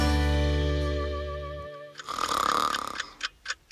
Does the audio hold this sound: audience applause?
no